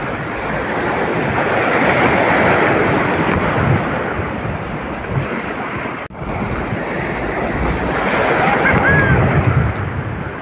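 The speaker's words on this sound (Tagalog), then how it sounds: "master, ah. Lalaking alon eh." Heavy surf rumbles steadily as large ocean waves break nearby on a rough sea while fishing, mixed with wind noise and a brief dip midway before the roar resumes.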